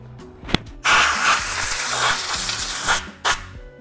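Clutch and brake cleaner sprayed during clutch work on a BMW E30 318is, a loud close hiss of about two seconds, then a short final burst, preceded by a few clicks.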